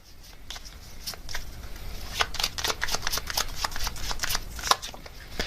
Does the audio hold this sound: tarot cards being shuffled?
yes